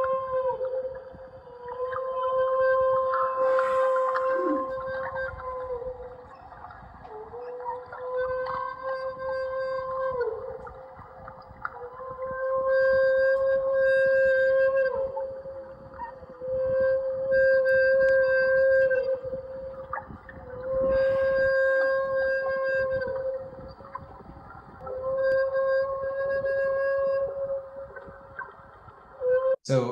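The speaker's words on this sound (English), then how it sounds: "this is the call of the humpback whale, and specifically, it is a feeding call that they make" Humpback whale feeding calls captured by an underwater microphone off the north central coast of British Columbia: long, loud, tonal moans and wails repeating through the recording, rising and sliding in pitch.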